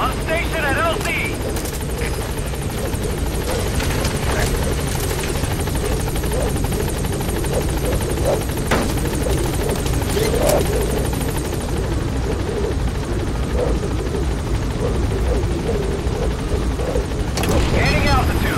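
Pequod helicopter from Metal Gear Solid V: The Phantom Pain arriving at a landing zone, its steady loud rotor drone filling the whole stretch with game sound effects and radio talk over it.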